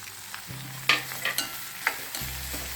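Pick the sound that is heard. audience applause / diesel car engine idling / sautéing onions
sautéing onions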